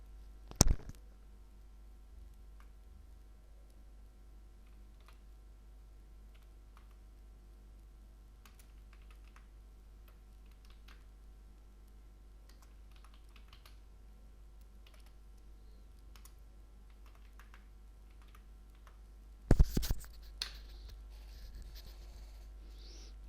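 Typing a command on a computer keyboard for a Linux virtual machine: faint, scattered key taps through a long stretch over a steady low hum, with a couple of louder clacks near the start and end, and no speech.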